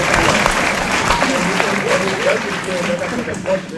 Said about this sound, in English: So I think we must clap our hands for Comrade Kwesi